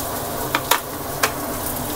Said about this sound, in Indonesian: Dan bawang merah. Ini kita tumis dahulu,